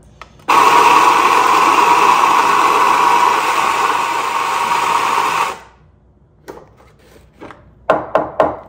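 Baratza Vario coffee grinder motor running after a circuit board repair: a loud, steady whirring grind starts abruptly, holds for about five seconds, then cuts off, followed by a few quieter clicks and taps.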